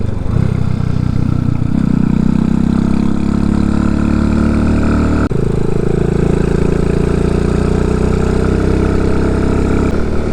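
An RPS Condor 250cc motorcycle engine with a modified stock exhaust drones steadily at high revs in fifth gear during a road test, loud and close with a slight pitch rise after a brief shift, no talk.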